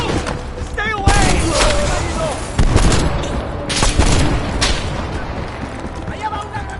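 Call of Duty: Black Ops Cold War combat with heavy gunfire and booming explosions, loud rapid bursts punctuated by a few big blasts, while voices shout over the din.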